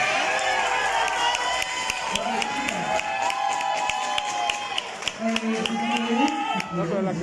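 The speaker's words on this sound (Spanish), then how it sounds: "Un aplauso para que lo hagan." Audience at a drag show in Ensenada claps and cheers steadily throughout, with shouting voices and whoops rising over the continuous applause.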